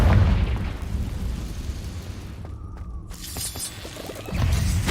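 Confringo spell blasts in Hogwarts Legacy: a loud booming explosion with shattering debris opens, fades into a rumbling tail and brief magical chime, then a second heavy burst hits near the end, with no talking.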